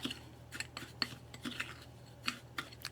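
Homemade foot scrub being stirred with a tablespoon of coconut oil mixed in, giving faint, irregular scraping and clinking of a utensil against a bowl, with scattered soft ticks over a low steady hum.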